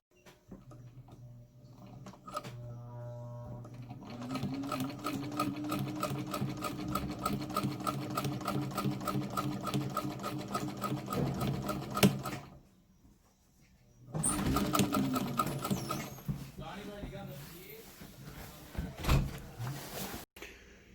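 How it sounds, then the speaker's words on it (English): A sewing machine stitches canvas moccasin uppers in bursts of fast, steady rhythmic whirring, with a pause near the middle and a few handling clunks between runs; no one speaks. "Time to pull out the sewing machine and figure out how to use it."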